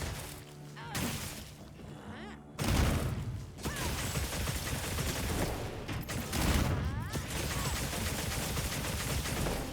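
Gunlance attack combo in Monster Hunter Wilds, heavy metallic strikes and explosive shelling blasts crashing in dense succession, loud and continuous with brief gaps.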